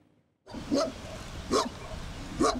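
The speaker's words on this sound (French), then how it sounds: "ces gros chiens qui protègent les troupeaux l'été dans les montagnes" Large livestock guardian dogs (patous) that protect flocks in the Haute-Savoie mountains in summer bark three times at a steady, spaced rhythm, moderately loud and slightly distant, over faint outdoor background.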